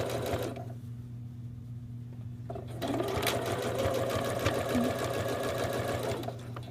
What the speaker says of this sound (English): Sounds like my needle's skipping.